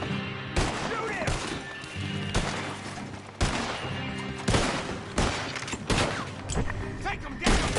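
Repeated gunshots in a Red Dead Redemption 2 shootout, sharp loud bangs in irregular bursts of a fusillade, some overlapping with booming impacts, voices faintly mixed in.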